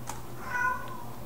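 A cat named Licky meows close by, one short mewing call with a rising, tonal quality standing out over a steady low hum, with no talking.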